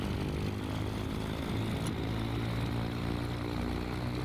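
Piston engine of a twin-engine Cessna Chancellor aircraft running just after start in Microsoft Flight Simulator 2020, a steady, loud propeller drone with a low rumbling throb that holds evenly throughout.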